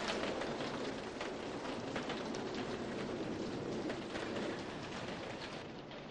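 Steady rain falls in a continuous, even hiss, broadband and unchanging, with no voices.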